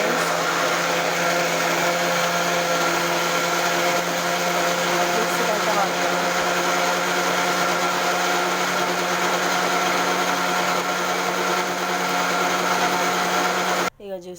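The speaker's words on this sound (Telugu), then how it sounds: "ఇప్పుడు మిక్సీ స్టార్ట్ చేస్తా" A kitchen mixer grinder blending mango pieces with sugar into juice runs as a loud, steady motor whine for about fourteen seconds, then cuts off abruptly into a brief clatter.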